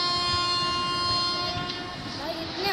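A sustained, steady train horn blares from an Indian train in a railway crossing video game, loud and continuous with a rumbling running background.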